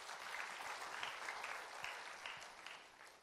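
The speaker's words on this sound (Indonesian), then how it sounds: "Berikan tepuk ini buat Tuhan Yesus ya" Congregation applauding during a Christian church sermon, a dense wash of clapping from many hands in a reverberant hall, steady and fairly faint throughout the short stretch.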